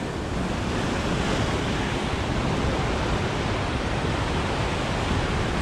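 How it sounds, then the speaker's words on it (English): High ocean surf breaks on a beach in a constant, roaring wash of noise, loud and continuous with no voices. "But the waves are also high."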